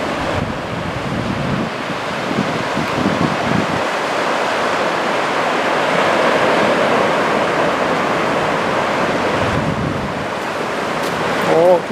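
Ocean waves wash in at Zaimokuza beach in Kamakura on a clear day after a typhoon, a loud, steady roar of surf with gusts of wind buffeting the microphone throughout.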